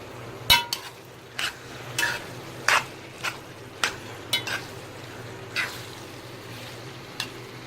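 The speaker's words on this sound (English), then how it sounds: "and I'm going to give it a stir." Ackee and saltfish seasoned with black pepper being stirred in a pan, a steady soft sizzle under repeated scraping and clinking strokes of a spoon against the pan every half second or so, close by with no talking.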